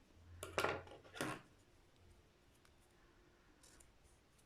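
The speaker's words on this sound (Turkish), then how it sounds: "Bir tane de zincir çekerek ipimi buradan kesiyorum." Scissors cut crochet yarn on a quiet table: two or three quick, close snips near the start, then near silence with a faint click at the end.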